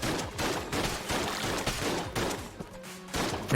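Rapid bursts of gunfire from a poison-shooting gun in the video game Exit the Gungeon, a dense stream of repeated shots with brief gaps, loud and continuous over game music.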